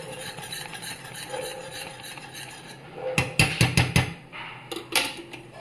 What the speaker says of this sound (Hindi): घी इसमें से घी छोड़ेगा अब प्रोसेस इसका चल रहा है घी निकलने का